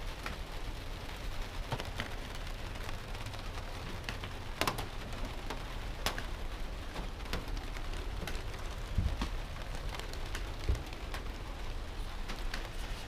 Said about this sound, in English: it just started raining out